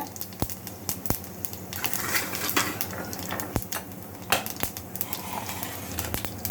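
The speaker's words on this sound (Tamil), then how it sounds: "இந்த எண்ணெய் காஞ்ச உடனே இந்த கடுகு சோம்பு இதை போட்டுக்கோங்க" Mustard seeds and fennel seeds hit hot oil in a pan for an egg curry, giving scattered sharp pops and crackles over a low background, with a few louder clicks spaced irregularly.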